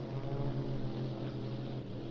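A propeller airplane flies over Lake Washington during a Seafair hydroplane race, its steady droning engine hum holding close and loud throughout with no speech.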